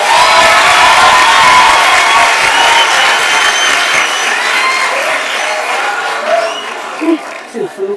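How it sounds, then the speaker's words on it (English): A live-streamed event audience bursts into loud cheering, whoops and applause for a producer from Tembisa, a dense roar that gradually thins and fades to scattered shouts by the end. "Let's give him a round of applause."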